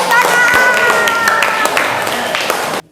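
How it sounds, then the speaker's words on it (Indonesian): Classroom of students clapping hands together, a dense burst of applause with crisp overlapping claps lasting almost three seconds before stopping abruptly, with some voices mixed in. "Ya, tepuk tangan."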